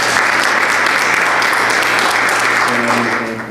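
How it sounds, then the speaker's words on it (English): Audience at a mental health talk breaking into a loud, dense round of applause that holds steady for a few seconds before starting to fade at the end. "Would you give them a round of applause?"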